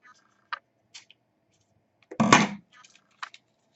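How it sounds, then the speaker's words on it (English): Paper being accordion-folded into a rosette: sparse, quiet crinkles and ticks, with one louder crackling rustle partway through and a few soft clicks after. "I'm just accordion folding it like so."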